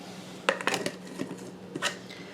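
Utensil clinking against a pan as minced garlic goes in with bacon, giving a few sharp metallic taps and scrapes over a faint background sizzle.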